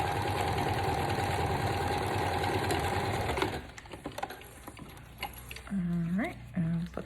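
A sewing machine stitches lace scraps in a steady, fast mechanical chatter for about three and a half seconds, then stops. Brief soft handling sounds and a voice follow afterward.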